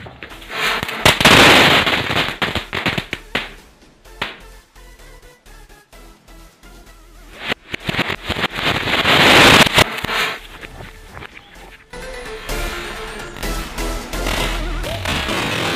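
Diwali bijli-style firecrackers bursting in loud, sharp crackling volleys, with two dense bursts separated by quieter scattered pops and a lingering crackle near the end, close by and with no talking.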